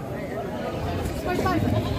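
Goats bleat amid the crowd noise of a livestock market in Padre Garcia, Batangas, with short nasal calls rising over a steady babble of people talking.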